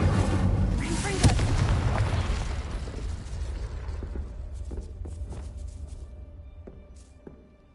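In Hogwarts Legacy, a Confringo spell goes off with a loud, booming blast that rumbles out and slowly fades over several seconds, with faint clicks and tones from the game trailing behind.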